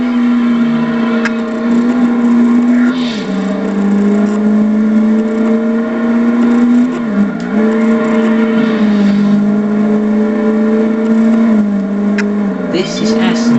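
Aston Martin V8 Vantage sports car with a 380 horsepower engine, droning steadily from inside the cabin at a near-constant pitch that dips briefly at a few gear changes, while a person talks over it.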